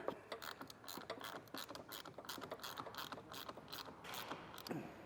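A 10 mm wrench ratchets a nut loose on a battery terminal during an air suspension installation on a 2024 vehicle, with rapid rhythmic clicks repeating steadily and close up, no talking.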